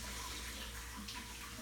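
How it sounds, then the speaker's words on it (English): Tap water runs steadily into a kitchen sink over a tray of frozen 1% milk ice cubes, a constant close rushing wash with no pauses. "I just run water underneath the ice cubes just to kind of separate them."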